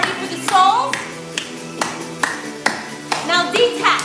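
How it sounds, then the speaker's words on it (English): Sharp hand claps land roughly every half second in a steady rhythm during an intenSati workout class, with a voice and upbeat music running underneath. "Now clap, clap."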